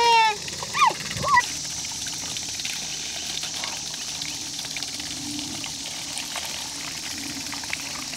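Water trickles and pours steadily onto a homemade waterwheel, a soft continuous splashing that runs throughout, with a few brief whimper-like squeaks near the start.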